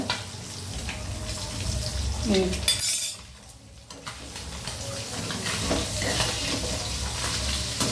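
Fish frying in a pan, with a constant sizzle mixed with clinks of utensils and stirring, a brief lull midway, then the crackle continuing steadily close by.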